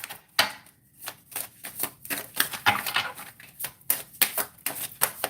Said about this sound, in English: I can tell just because of the way I'm shuffling these cards